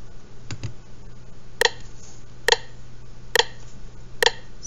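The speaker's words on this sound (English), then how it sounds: "steady clicking, making sure you have it ready to go" A metronome ticks four times at an even, steady beat, each click sharp and bright against a faint background hum, with a couple of softer low knocks just before the first tick.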